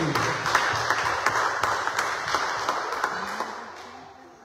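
A church congregation at a Sunday service applauds warmly, a dense wash of many hands with sharper claps poking through, fading out toward the end.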